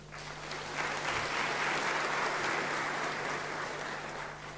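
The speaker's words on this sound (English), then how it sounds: "we would like to give you a round of applause" Sustained applause fills a hall for graduates at a Unisa autumn and spring graduation ceremony, a dense, even wash of many hands clapping from start to finish.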